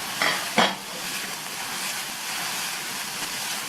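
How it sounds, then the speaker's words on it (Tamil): Vegetables sautéing in a pan while preparing a rava breakfast dish, a steady loud sizzle running throughout, with two sharp stirring scrapes near the start and no talking. "சேர்த்துருக்க வெஜிடபிள்ஸ் எல்லாம் நல்லா சாஃப்டாக வதங்கி வரட்டும்"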